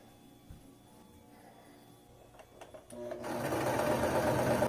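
Sewing machine stitching skirt panels starts up after about three seconds of quiet room noise, then runs as a loud, steady, close whirring hum to the end.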